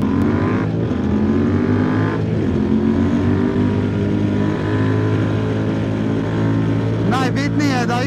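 A QJ Motor SRT 800 motorcycle being ridden, its engine droning loud and steady close up with rising and falling pitch through bends, and a brief sharp rev near the end.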